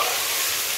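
Okra and onion with garlic fry in a pan of very hot pork lard, giving a loud, continuous close-up sizzle with no talking.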